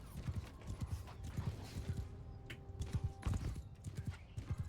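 Hoofbeats of a horse in the video game Mount & Blade 2 Bannerlord, a steady rhythmic clip-clop close by, with light mechanical creaks mixed in and no talking.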